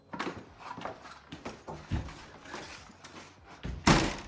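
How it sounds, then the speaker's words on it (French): A door is slammed shut during an amateur film shoot. Several knocks and thuds come first, then one loud, sharp slam close by near the end. "tu me le passes mais un peu violemment pour que je recule et tu me fermes la porte"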